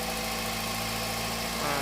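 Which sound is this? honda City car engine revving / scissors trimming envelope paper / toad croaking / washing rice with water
honda City car engine revving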